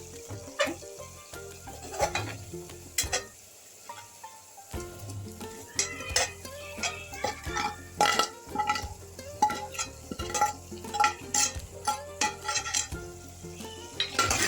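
Fried taro root is stirred into cooked tomato in a metal pot, with repeated scraping and clinking of a spoon against the pot over a soft ongoing sizzle, in an uneven rhythm close by.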